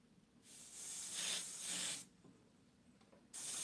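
An airbrush sprays black opaque paint in steady hissing bursts, one long blast of about a second and a half, a pause, then another starting near the end, close and fairly loud with no talk.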